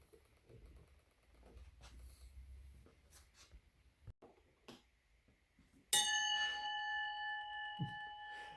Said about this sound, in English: That's the dinner bell.